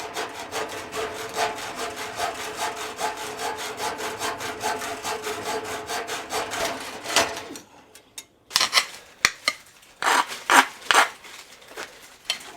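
Hand filing of a metal piece in a workshop: steady rapid back-and-forth rasping strokes for about seven seconds, close and moderately loud, then a pause followed by a few separate, irregular scraping strokes.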